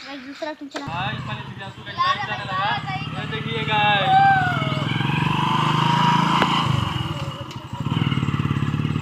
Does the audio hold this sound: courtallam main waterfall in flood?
no